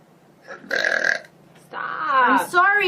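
A woman streamer gives one loud, rough burp, and then voice sounds follow right after it.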